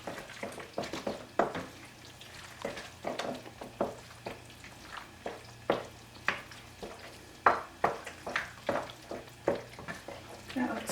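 A spoon stirs macaroni tuna casserole in a pot, making repeated soft scraping and clinking strokes in an uneven rhythm with a light sizzle underneath.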